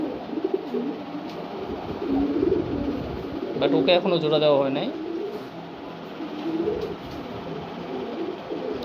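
A pet pigeon coos with a short rolling burst amid steady background noise, while a person talks nearby throughout.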